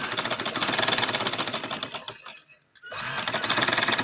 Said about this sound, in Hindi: आप इसको ऐसे किनारे किनारे पे सिलाई लगा लें